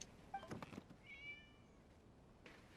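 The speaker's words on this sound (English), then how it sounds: "It was just a cat." A single cat meows once clearly in Genshin Impact, with a few soft clicks and taps around it.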